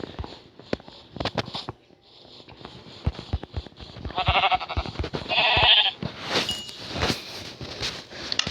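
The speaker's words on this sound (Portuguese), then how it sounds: "Ovelha." Minecraft sheep bleating, a few nasal bleats mixed in with busy clicks and taps from play, fairly close and loud.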